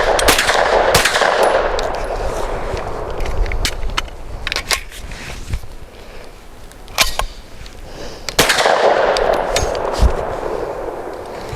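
Stribog SP9A3 pistol with a Glock-pattern magazine, Matador Arms folder and SP9A3 brace, firing outdoors in loud sharp shots: a rapid string at the start, scattered single cracks in the middle and another burst near the end.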